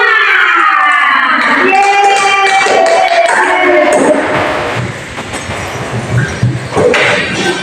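A group of children do a rhythmic clapping game in a guidance session, with chanting voices and patterned claps at first, then looser scattered clapping and taps as the chant ends.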